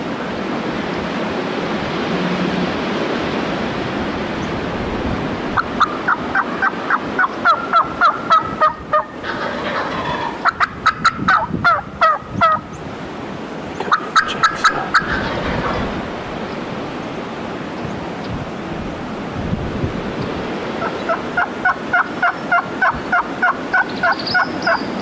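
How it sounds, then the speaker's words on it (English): Male wild turkeys gobble outdoors in several bursts of rapid, rattling calls, some nearer and louder, others fainter, separated by stretches of quiet ambient background. "There's some male turkeys to the left here."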